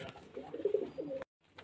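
A pigeon at a bird-selling spot gives a short, soft throaty coo up close, followed by a brief pause and a faint trailing sound.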